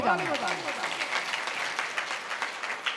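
Audience applause at a Sahu community Karma Mata Jayanti gathering in Kurud, Chhattisgarh: a steady patter of many hands clapping at moderate volume, with a voice over the loudspeaker at the very start.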